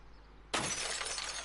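Glass shatters suddenly after a quiet lead-in, a loud bright crash of breaking panes that rings on with scattering shards.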